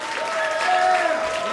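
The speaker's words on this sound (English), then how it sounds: "Clap, make some noise for the people you're out here to see." Comedy club crowd claps and cheers, a brief steady burst of applause with voices and whoops mixed in.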